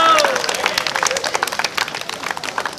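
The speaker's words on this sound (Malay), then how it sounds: "tepukan yang gemuruh." A crowd at an archery tournament in Malaysia claps in a dense, lively burst, the applause rattling on steadily and fading slightly toward the end.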